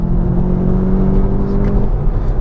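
A front-wheel-drive 2022 Volkswagen Jetta GLI launches hard from a standing start with traction control on, its engine droning loud and steady with a rising revving whine that holds throughout.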